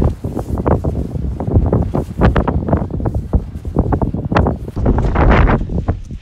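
Wind gusts buffet the microphone at a mountain campsite, loud and rough, with rumbling bursts rising and falling throughout.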